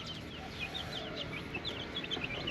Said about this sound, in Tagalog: yung maliliit na sobrang liliit na manok namin manok na binili namin ni Kapengyo